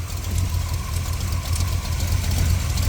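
The small-block Chevy 350 V8 with a Quadrajet carburetor in a 1981 Corvette idles steadily and close by, with a low, even rumble and a possible slight exhaust leak. No one speaks over it.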